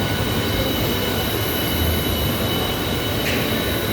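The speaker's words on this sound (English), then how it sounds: "A computer controlled machine." Steady loud mechanical hum and rumble of a computer-controlled machine running in a machine shop that builds locomotive parts, with a brief hiss near the end and no talk.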